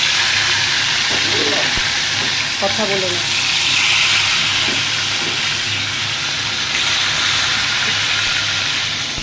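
Food frying in a pan at home, a steady sizzling hiss running throughout with a few clinks and a voice speaking briefly over it.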